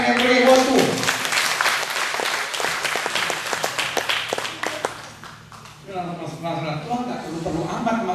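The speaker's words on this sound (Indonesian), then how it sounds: "Yang setuju berikan tepuk tangan yang beri buat Tuhan." A church congregation applauds in a dense, loud burst of clapping that fades out, followed by a preacher's voice over the microphone.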